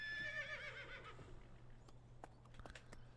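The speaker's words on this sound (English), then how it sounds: "Horse." Horse in the Farming Simulator 17 video game gives a loud whinny up front, followed by a series of crisp hoof clip-clops on hard ground, close and clear with no talk over them.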